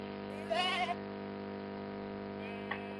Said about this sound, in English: There are sheep here